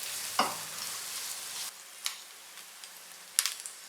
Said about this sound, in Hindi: अब इसमें डालेंगे आधा कप चॉप प्याज और इसको सिर्फ 2 मिनट फ्राई करेंगे